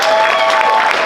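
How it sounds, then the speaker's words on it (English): Audience clapping and cheering for young comedy battle contestants at a live comedy club show, a dense steady wash of applause throughout that sits close and loud. "Nice round of applause for these kids"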